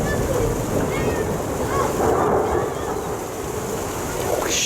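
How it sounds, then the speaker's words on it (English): A low, heavy rumble of thunder rolls on under a steady wash of rain, loud and continuous throughout. "that thunder echoed off something"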